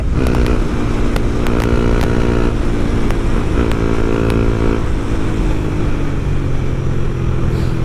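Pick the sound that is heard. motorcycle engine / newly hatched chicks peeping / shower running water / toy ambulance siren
motorcycle engine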